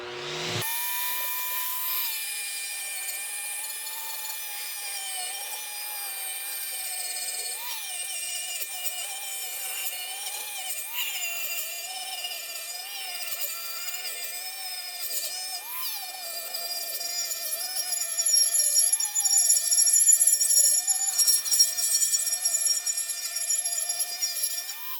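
A power tool spinning a cleaning wheel against an older aluminum intake whines at a steady pitch over a hiss, with slight wavers as the wheel works the metal, getting louder near the end.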